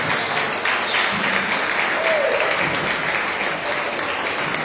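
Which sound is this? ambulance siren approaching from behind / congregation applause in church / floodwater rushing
congregation applause in church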